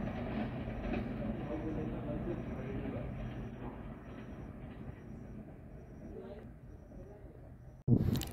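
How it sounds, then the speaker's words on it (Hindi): A KCR light locomotive GMU rolls through Badal Nala railway station in Karachi, a steady rumbling and clattering of rail traffic at moderate distance, fading slightly before a sudden loud burst near the end. "एक KCR का light locomotive GMU 15 4832 Karachi cantt की तरफ से आके मार्शलिंग यार्ड पिपरी की तरफ मुड़ गया।"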